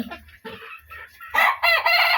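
Desi chickens on a farm cluck in short close bursts, then a rooster crows loudly and at length near the end, with no talk over them.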